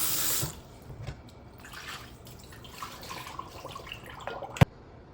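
Tap water runs steadily at moderate loudness while frozen meat for soup is washed in a sink, with splashing and dripping textures and a sharp knock near the end.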